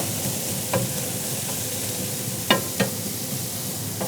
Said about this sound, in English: Just spread it out so we get as much surface area in contact with the hot griddle as possible.